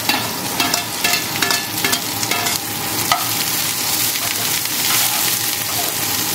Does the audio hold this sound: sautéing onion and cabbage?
yes